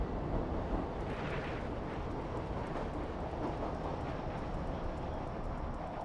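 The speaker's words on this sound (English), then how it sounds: "Long dark subway ride." A long, dark subway train ride in the video game Stray: a steady, low rumble of rail travel with a continuous roar and faint clatter, with no voices.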